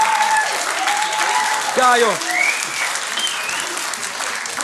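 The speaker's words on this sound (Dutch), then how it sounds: "Geef hem toch een applaus." An audience at a Dutch student quiz show applauds steadily, a dense wash of clapping throughout, with brief whoops and a short spoken exclamation heard over it.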